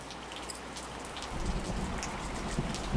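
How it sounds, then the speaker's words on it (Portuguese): Steady rain falling on a surface, a continuous hiss of drops that grows slightly heavier and closer partway through, with no voices. "Você acertou se você respondeu que esse é o som da chuva."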